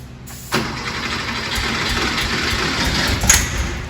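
A 1986 Porsche 911 Targa pulled from abandoned storage cranks and fires up after a brief whir, then runs at a rough, close idle with small revs near the end.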